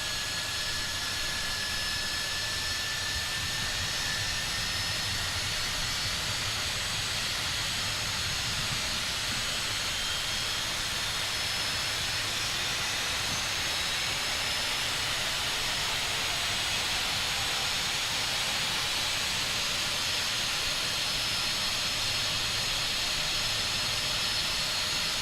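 Jet engines on a Cessna Citation Longitude spool up and run, heard from the flight deck in a flight simulator as a steady, loud roaring hiss with a faint rising whine, no talking.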